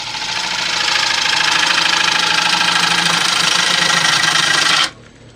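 A lathe gouge shears through a fissured white oak yarn bowl blank whose embedded sand dulls the edge, producing a loud, steady rasping scrape over motor hum that cuts off abruptly near the end.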